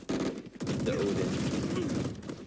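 Odin machine gun in Valorant firing in sustained rapid bursts, loud and dense, with short gaps near the start, then continuous gunfire over background game noise.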